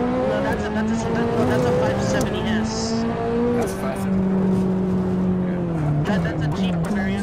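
Supercar engines in the Assetto Corsa racing game on Union Island, with a McLaren P1 and 570S among them, rev with rising and falling tones and pass close by, with faint tire squeal and voices talking over the top.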